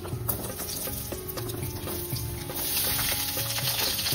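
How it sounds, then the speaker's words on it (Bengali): Potatoes fry in oil with cumin, bay leaves, whole garam masala and dried chillies, a steady close sizzle with light spatter and stirring, growing slightly louder partway through. "অল্প একটু ভাজা হতে থাক আলুগুলো"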